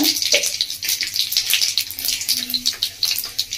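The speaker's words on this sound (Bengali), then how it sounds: "তো তেলটা খুব ভালোভাবে গরম হয়ে গেছে, ফোড়নটা দিয়ে দিচ্ছি।" Cumin, cinnamon, cloves and cardamom hit very hot oil for tempering, throwing off a loud, bright, crackling sizzle with sputtering pops that hold steady throughout.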